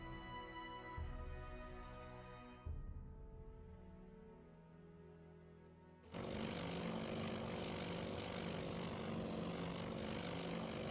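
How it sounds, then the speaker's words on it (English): Carrier aircraft propeller engines drone in flight in the Task Force Admiral naval strategy game, a steady layered hum that thins and fades before a broader, louder roar swells in and holds with no one talking. "Our aircraft are airborne."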